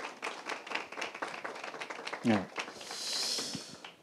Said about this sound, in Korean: 여러분 큰 박수로 맞이해 주시면 감사하겠습니다.